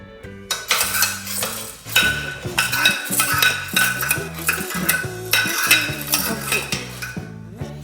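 Popcorn ingredients stirred and mixed in a pot: a dense run of metallic scraping and clinking of utensil against the pot, continuous and busy throughout, close and fairly loud with no talk.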